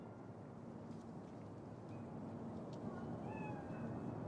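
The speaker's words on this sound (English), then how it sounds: "Chill. It's just a cat." Cat meows inside the Cyberpunk 2077 game world, a few faint rising cries over a steady low ambient hum, quiet and somewhat distant.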